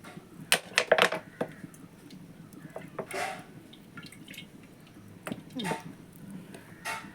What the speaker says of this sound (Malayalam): അതിലേക്ക് നമുക്ക് വെളിച്ചെണ്ണ ഒഴിച്ചു കൊടുക്കാം